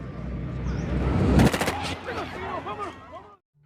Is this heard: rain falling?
no